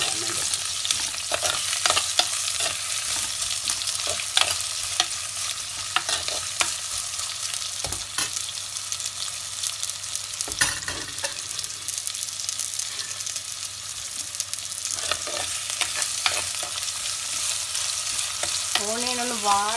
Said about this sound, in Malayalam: ഓണിയൻ കുറച്ച് പെട്ടെന്ന് വേകാൻ വേണ്ടി നമ്മൾക്ക് എന്ത് ചെയ്യാം, കുറച്ച് സോൾട്ട്, വേഗം അത് വാടിക്കിട്ടും, ബ്രൗൺ ആവാൻ വേണ്ടി